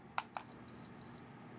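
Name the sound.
heater control panel beeping three times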